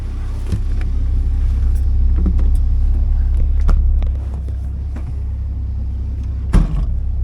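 A 1979 Porsche 924 out on a drive, carrying a steady low engine and road rumble heard from inside the car, with a few faint clicks and a sharp knock near the end, and no talk.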